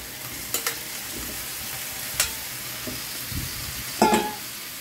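Chicken feet hit a hot pan and fry with a steady low sizzle, while a few sharp clanks and scrapes of stirring break in at intervals. No one speaks.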